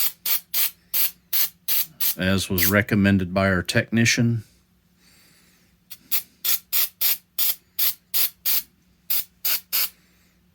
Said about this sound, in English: I'm just going to spray at an angle